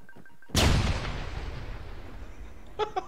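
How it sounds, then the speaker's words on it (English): A single loud grenade blast in Arma 3 bursts in after a quiet moment and rolls off in a long fading rumble, followed by a couple of faint sharp pops near the end. "I hear grenades."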